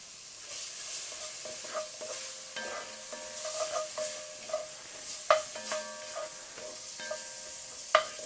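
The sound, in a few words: minced onion frying in the pan for étouffée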